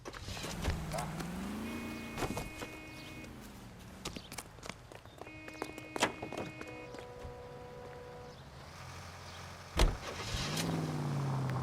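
Car driven in the video game L.A. Noire, engine hum and road noise under short mechanical clicks and tones, with a sharp thud near the end and a rising engine whine; voices speak over it.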